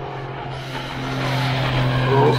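A HOSIM X25 Vortan 1/8-scale brushless RC truggy whines past at speed, its motor pitch rising and swelling louder as it nears, a steady continuous drone with no talk.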